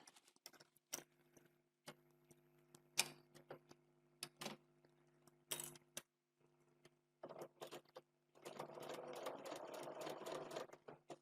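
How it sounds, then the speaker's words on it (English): Short bursts of a sewing machine stitching a foundation paper pieced heart with a shorter stitch length, separated by pauses and small clicks, ending in a longer steady run; close and fairly quiet, no talking. "So I'm stitching with that shorter stitch length"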